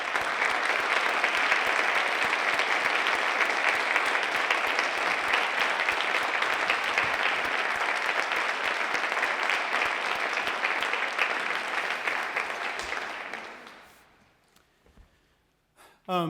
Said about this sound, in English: we ought to give some applause for everybody who's performed for us today